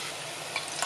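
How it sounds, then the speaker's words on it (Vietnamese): Shallots frying in hot oil until golden brown, a steady close sizzle with faint stirring scrapes near the end, no voices. "Mình phi cho nó nâu vàng."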